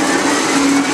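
Woodworking machine feeding a board through to reduce its thickness for a storage chest, a brief, loud, steady motor roar with no talk.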